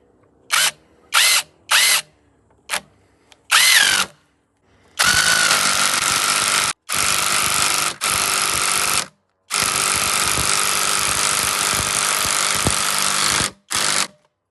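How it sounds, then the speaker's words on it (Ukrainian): A Sturmax CDM3212CLBS cordless impact driver drives a long screw in loud, close bursts: several short hammering spurts, then longer sustained runs broken by brief pauses. "Турбошуруп сотка. Спробуємо його сюди загнати."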